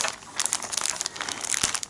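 A plastic zip bag crinkles and rustles steadily at close range while it is handled and opened during an unboxing, with no talking.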